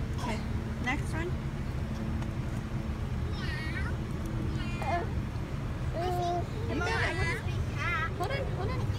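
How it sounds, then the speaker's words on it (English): A cat meows outdoors, several short rising and falling cries scattered through the clip, moderately close, over background chatter, a voice and passing traffic. "Yeah, you found the kitty outside."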